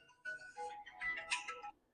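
A phone ringtone going off during a chemistry lesson, a short bright electronic melody of a few tones lasting under two seconds, fairly close and clear with no talk over it.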